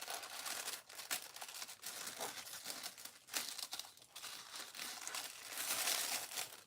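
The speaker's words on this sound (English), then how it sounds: "if you just peel the sticker back really gently" Sticker peeled gently back from crinkly gift packaging, a continuous close rustling and crinkling with faint tearing, no talk.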